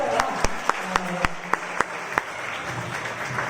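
Audience at a Dhobi community prize-giving event clapping in a slow, even rhythm, about eight or nine distinct loud claps with crowd murmur and talk underneath.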